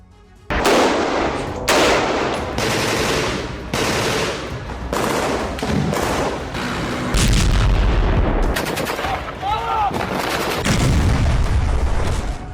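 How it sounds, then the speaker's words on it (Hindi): Heavy shelling and bombing in Gaza: loud, repeated booms and bursts of gunfire in quick succession, with deep rumbling blasts and rattling volleys continuing throughout and no talking. "कई इलाकों में भारी गोलाबारी और बमबारी हुई।"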